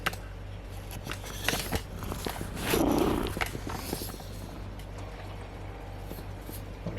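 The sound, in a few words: cat purring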